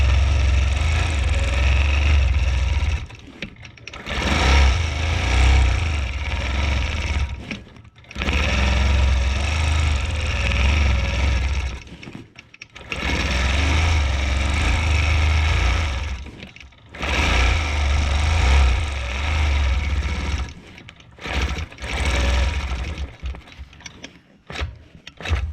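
Sewing machine stitching over a mermaid quilt design, a steady mechanical whir running in long bursts separated by short pauses, close and loud with no talk.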